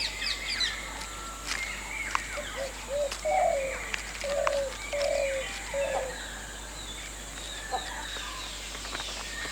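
Soft, low cooing notes from a green pigeon repeat in a short series of four or five calls, set against a busy outdoor chorus of other birds chirping and calling.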